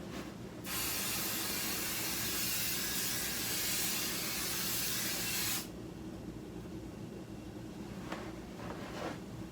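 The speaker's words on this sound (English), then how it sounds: "I think I can just use my basting spray and that'll be enough." A can of quilt basting spray is sprayed onto quilt batting in one close, steady hiss lasting about five seconds, followed by a couple of faint rustles.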